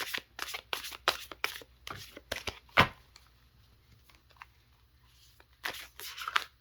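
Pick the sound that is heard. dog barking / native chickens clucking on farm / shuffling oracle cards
shuffling oracle cards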